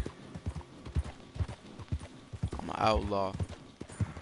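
A horse's hooves clip-clop in a steady rhythm in the video game Red Dead Redemption 2, with a player talking over the galloping and a brief loud burst partway through.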